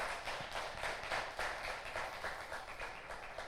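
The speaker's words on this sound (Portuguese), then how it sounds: "Uma salva de palmas para a irmã Gabi" A church congregation gives a round of applause for a sister, a soft, even patter of many hands clapping in a reverberant room, continuing steadily without talk.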